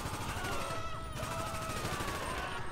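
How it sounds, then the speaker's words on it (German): Distant minigun fire in GTA V Online rattles in continuous rapid bursts, faint and muffled under a dense, noisy game soundscape. "ich hör schon wieder Miniguns"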